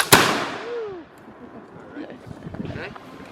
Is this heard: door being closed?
no